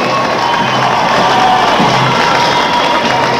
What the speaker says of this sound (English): So a big round of applause for the Soviet delegation that was here.